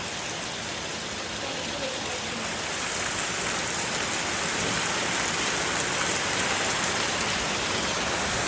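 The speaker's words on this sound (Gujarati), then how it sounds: "ફૂલ જોરમાં વરસાદ આવે છે" Heavy rain pours down steadily, a dense, continuous hiss of water drumming on surfaces, loud and unbroken throughout.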